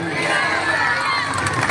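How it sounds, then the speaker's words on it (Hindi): Large crowd gathered at a Christmas procession in Nawanshahr, a dense steady roar of many voices and cheering, loud and close throughout. "तो आज एक इतनी बड़ी भीड़ यहां पर क्यों इकट्ठी हो गई?"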